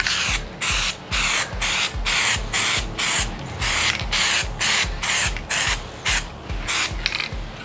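Dry moly lubricant sprays onto a stainless steel flask in a series of loud, close, evenly spaced bursts, about a dozen short hisses with brief pauses between them and no voices.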